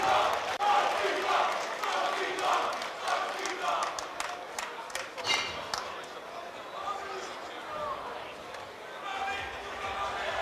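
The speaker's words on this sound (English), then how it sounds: "Please make some noise as well for Joey Taker." Crowd noise at a Battle Arena combat event after a knockout, spectators cheering and shouting at a distance while an announcer talks over the fairly faint, steady roar.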